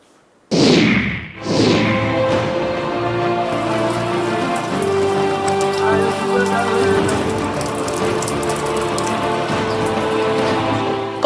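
Continuous heavy rain from a low-pressure system in Bengal pours down steadily and loudly after two brief opening swooshes, with no talking.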